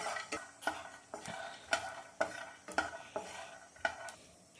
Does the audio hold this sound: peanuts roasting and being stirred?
yes